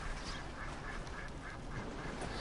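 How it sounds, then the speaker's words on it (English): Duck quacking in the open world of Red Dead Redemption 2, a steady run of nasal calls repeating at a moderate pace over constant outdoor ambience, fairly close and even in level throughout. "Old bitch duck."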